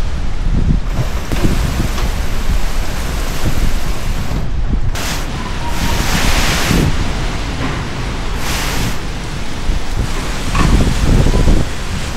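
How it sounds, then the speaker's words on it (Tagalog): Strong typhoon wind roars in Vigan City, a dense continuous rush with gusts that swell and fade, loud and close against the microphone, no voices. "Sobrang lakas ng hangin."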